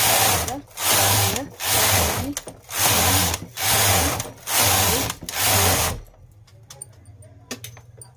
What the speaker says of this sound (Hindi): तो इस तरह से हम इसमें सिलाई लगाएंगे, है ना। तो मैं आपको ये सिलाई लगा के देता हूँ